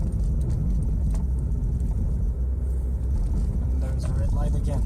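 Inside a Mazda 626, the engine hums as a low, steady rumble while the car picks up speed after cruise control resumes, with a person talking over it.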